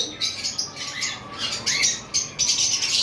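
A male high-mutation lovebird squawks repeatedly, loud and close, with harsh shrill calls coming in quick irregular bursts.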